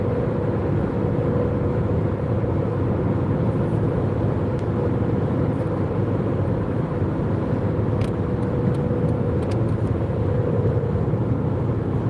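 Car cruising at 70 mph on the I-90 highway, a steady, loud, even roar of road and engine noise from inside the cabin, unbroken throughout.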